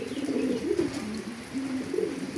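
Soft, rounded cooing from a female free-loft racing pigeon, a steady run of low throaty coos with a slight rise and fall, close and continuous with no talking over it.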